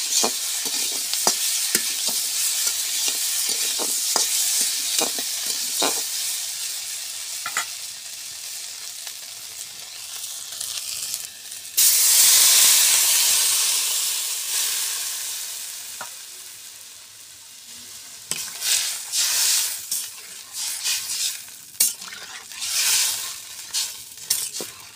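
Jatka fish (young hilsa), already fried in a pan, sizzles steadily with scraping stirs, then water poured in midway gives a loud, close burst of hissing that slowly fades back to a softer sizzle and stirring.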